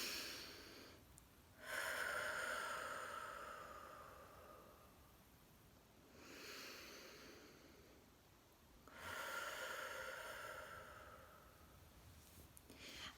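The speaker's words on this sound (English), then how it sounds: "I'm going to take a deep breath in through my nose and send my breath to my shoulders" Long, deep breaths drawn in through the nose, three slow airy swells with quiet pauses between, close and soft with no talking.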